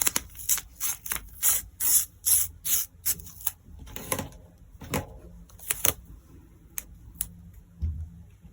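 Thick recycled cardboard being cut in a series of sharp, irregular rasping snips and crunches, loud and close, with short pauses between strokes.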